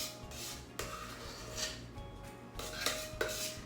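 Cheesecake filling being spread in a baking pan, with a utensil scraping and rubbing against the pan in soft, uneven strokes and a few sharper clinks, close and fairly quiet.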